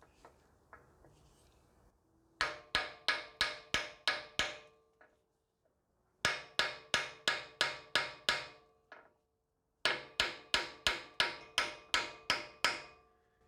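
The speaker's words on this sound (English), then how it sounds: "So you just want to place your brass hammer on the end of the stud and hit it with a steel hammer" A steel hammer strikes a brass hammer held against the wheel hub studs of a Toyota Landcruiser 100 Series, in three bursts of about six sharp, ringing blows each with pauses between, close and loud.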